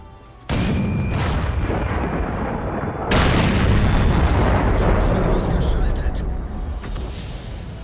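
A tank's main gun fires in the World of Tanks game, giving two heavy booming shots a few seconds apart, each followed by a long rumbling tail of battle noise.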